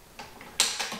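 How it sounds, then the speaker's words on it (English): A rifle bolt slid closed during dry-fire practice for PRS competition, a quick close metallic sequence of small clicks and a sharper snap, heard alone in a quiet setting. "Close our bolt."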